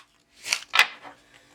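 A very tall tarot deck being split and riffle-shuffled, two crisp papery bursts in quick succession with a softer rustle after, close and otherwise quiet.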